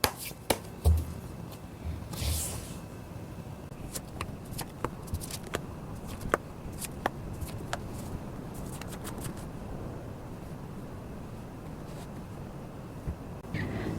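Tarot cards are shuffled with a soft, continuous riffle, then single cards are flicked and laid down in a run of sharp, quick taps, close and alone without talk.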